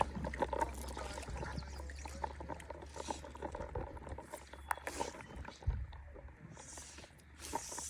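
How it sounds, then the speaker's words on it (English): River water trickles and splashes steadily as a fly reel is rinsed in a clear stream, a close, continuous watery babble with a few sharper splashes. "this is a great river to clean my fly reel off"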